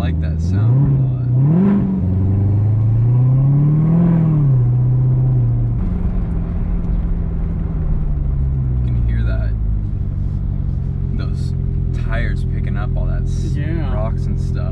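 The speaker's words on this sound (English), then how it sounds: "So, that's a pretty throaty noise." Chevrolet Corvette engine, C7 or C8, rumbles deep and throaty at close range, rising and falling in pitch as it revs, then settling into a steady low drone with a voice talking over it.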